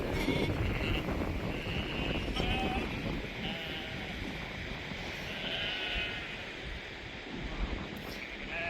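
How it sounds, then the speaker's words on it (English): Sheep bleating on a farm as the flock is moved onto new grass, several calls rising over wind noise on the microphone, with a voice talking in the clip at times. "Time to move all the sheep onto their new grass."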